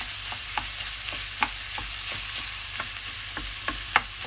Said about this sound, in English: To fry the minced meat a little bit like this and just shake it loose.